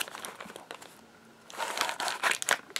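A small sachet of ayurvedic hair powder being opened, crisp crinkling and tearing of the packet close up, quiet at first and then a louder burst of rustling.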